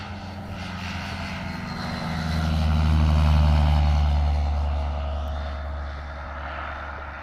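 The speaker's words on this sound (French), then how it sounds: "on va regarder les décollages se produire" A light aircraft takes off at the Aero Friedrichshafen aviation fair. Its propeller engine drone swells to a loud peak midway through and then slowly recedes, with no talk.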